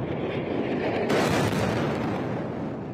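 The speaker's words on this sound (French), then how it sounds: "Cette énorme explosion, c'est l'université de Gaza ce matin" A huge explosion hits Gaza's university, heard from a distance as a broad, rumbling roar that swells suddenly about a second in and then rolls on heavily without fading away.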